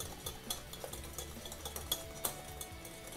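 Butter and sugar beaten together in a bowl for eggless saffron butter cookie dough, with steady, soft scraping strokes and occasional sharper clinks of the utensil against the bowl.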